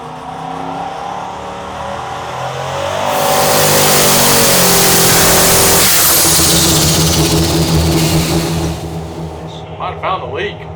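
A twin-turbo 5.3-litre LS V8 running on a dyno at around 2 bar of boost, with an intake leak; a loud, rising rev builds to a sustained roaring pull, then drops off into lower idle pulses near the end.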